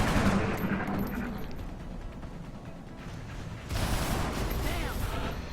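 Suppressing fire in XCOM: Long War, a sustained loud stream of automatic gunfire with mechanical clatter that briefly eases before surging again.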